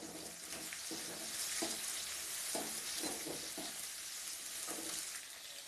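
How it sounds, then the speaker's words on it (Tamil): Onion sautéing in a pan with ginger and garlic, a steady broadband sizzle with soft stirring scrapes at intervals, close and fairly constant, with no talk. "வெங்காயத்துக்கு நல்லா வதக்கி விடணும்"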